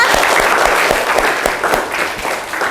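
Classroom applause for a classmate during an informatics lesson, a loud, close patter of many hands clapping steadily with no talking.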